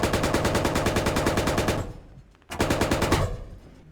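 Rapid automatic gunfire in the military shooter Squad, loud and close, with a steady burst, a short pause, then a second burst that trails off.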